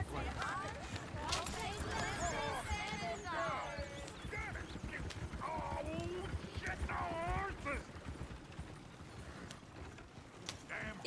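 Hooves clip-clop steadily alongside rattling, creaking wheels as a horse-drawn coach rolls past in the video game Red Dead Redemption 2, with a voice calling out over the clatter.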